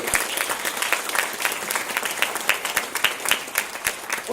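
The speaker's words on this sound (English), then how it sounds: "an applause for their courage?" Audience at a memorial gathering applauds steadily, many distinct hand claps forming a sustained, moderately loud round of clapping throughout.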